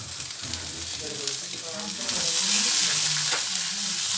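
Fish and bell peppers fry in a hot pan, giving a dense, steady sizzle up close that grows louder about halfway through, with faint background tones and no clear speech.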